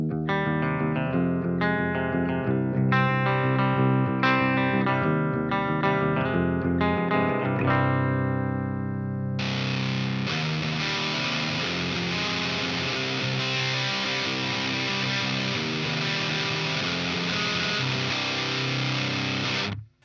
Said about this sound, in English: I'll engage the Rat with everything at noon and then I'll get into tweaking it later on.